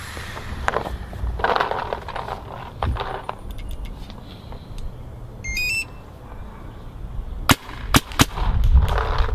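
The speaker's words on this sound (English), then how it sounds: "Take a couple shots real quick." A Dye DSR paintball marker on a higher-pressure tank fires a couple of sharp, close shots near the end, after a stretch of scattered clicks and handling noise.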